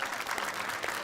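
A studio audience claps for a talk-show guest, dense continuous applause filling the room at steady strength with no voices standing out.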